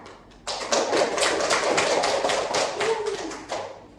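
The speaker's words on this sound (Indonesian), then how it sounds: "Beri aplaus kepada Kisu" A classroom of students claps for a classmate, a dense burst of applause that starts abruptly, holds steady for about three seconds and then tapers off, close and fairly loud.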